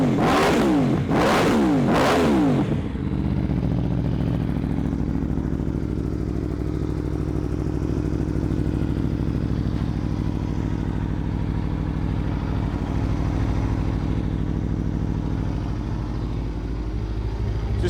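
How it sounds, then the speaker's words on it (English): A 2020 Aprilia RSV4 1100 Factory motorcycle revs sharply three times, then settles into a loud, steady idle that rumbles on close by. "this is a 2020 Aprilia RSV4 1100 factory"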